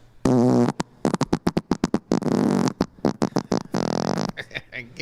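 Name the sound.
fart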